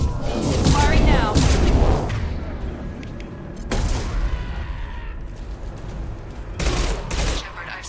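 Weapon fire in the Mass Effect video game: loud rattling bursts of shots come in three clusters, at the start, midway and near the end, with booming impacts and a voice in the mix.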